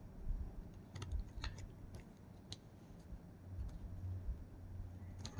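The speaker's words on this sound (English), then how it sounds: "Typing fast on iPad." Fast tapping on an iPad screen, a rapid irregular patter of soft clicks close by over a low background hum, with no talking.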